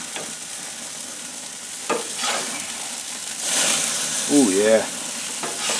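Burgers, copycat Roman burgers, fry in a pan with a steady close sizzle throughout, while someone talks briefly over the cooking.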